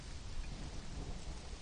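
Steady rain and rumbling thunder in the video game Conan Exiles, a dense, continuous wash of downpour with a low roll of thunder, heard alone and fairly faint.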